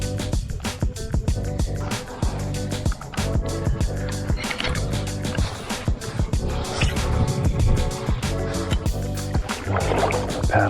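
Kayak paddling across water on a lure-fishing trip: a steady run of close splashes and knocks from the paddle and hull, continuous and fairly loud with no voices.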